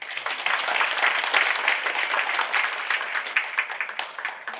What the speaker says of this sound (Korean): 큰 박수로 위로 부탁드립니다.